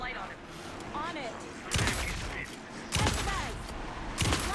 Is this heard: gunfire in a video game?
yes